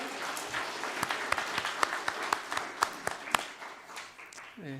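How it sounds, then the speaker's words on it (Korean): An audience at a church lay theology lecture applauds to welcome a speaker, a steady wash of clapping with several sharp, distinct claps standing out before fading. "박수로 환영하겠습니다"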